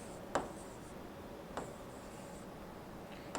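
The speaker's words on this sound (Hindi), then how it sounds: "तो इसको मैं यहाँ पे ऐसा लिखता हूं" Handwriting during a maths lesson on sets: three short, faint scratching strokes, spaced about a second apart, with no voice over them.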